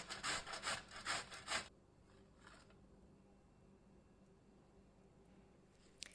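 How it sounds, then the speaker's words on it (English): Zucchini is rubbed down the coarse side of a box grater in several quick, close, rasping strokes, followed by quiet with a faint scrape and a small click at the end. "I like to take the ends off the zucchini before I grate it"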